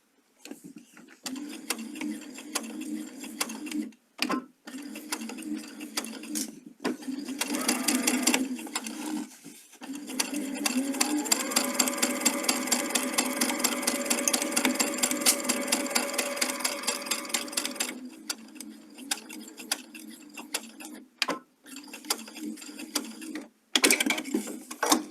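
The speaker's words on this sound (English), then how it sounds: "I'm going to sew onto my leader and start the next side" Sewing machine stitching fabric onto a leader, a close, steady mechanical whirring hum in several long runs separated by brief pauses, with the longest continuous run in the middle.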